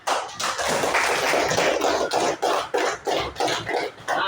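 Applause in a classroom for a group that has just presented, a short burst of fairly loud, steady clapping from several people with a few louder individual claps.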